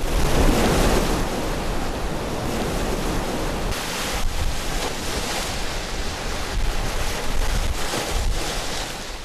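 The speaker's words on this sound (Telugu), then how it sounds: "తీరం వెంబడి 60 నుంచి 80 కిలోమీటర్ల వేగంతో గాలులు వీస్తున్నాయి." Strong cyclone winds and surf roar along a coastline, a loud, dense, continuous rush with gusty surges and wind buffeting the microphone, with no voices.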